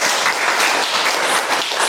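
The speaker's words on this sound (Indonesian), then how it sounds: "Kita tepuk tangan untuk mereka dulu." A crowd claps steadily, a dense continuous wash of applause filling a university classroom, loud and close.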